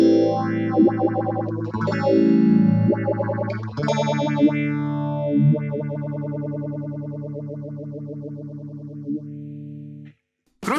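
Processed electric guitar notes through a Vox StompLab 2G processor's Univibe effect, a warbling, pulsing modulation with some distortion, played alone for about ten seconds before cutting off.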